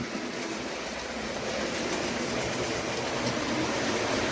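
An OO gauge model train runs on track in a Hornby and Bachmann layout with Patriot locomotives, giving a steady, even rolling whir that holds close and constant with no talk.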